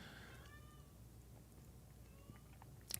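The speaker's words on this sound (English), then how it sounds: "Yep, that's my cat." Domestic cat meowing indoors, two faint drawn-out meows about a second and a half apart, distant and quiet over a low steady background hum.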